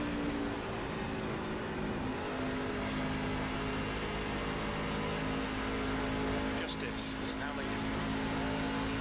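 NASCAR Class C fixed-setup truck racing engine in a video game at Kentucky, a steady droning hum that holds throughout with little change in pitch, under a faint background voice.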